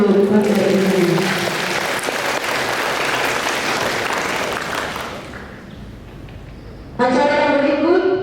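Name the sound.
audience applause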